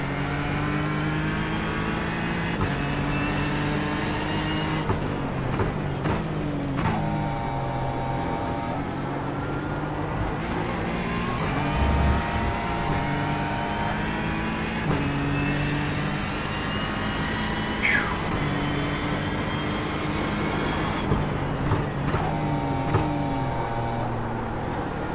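Race car engines roar steadily in the iRacing sim as a Ferrari scraps to get past a BMW, with layered engine drones shifting pitch through upshifts and downshifts, loud and continuous with no talk.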